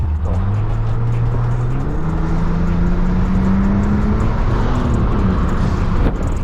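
An inline-six M50B30 engine in a BMW E39 pulls hard while overtaking on an open straight road. Its loud, steady drone climbs in pitch through the run and stays continuous from start to finish, with no voices.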